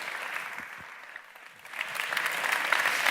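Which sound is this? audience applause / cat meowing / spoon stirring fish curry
audience applause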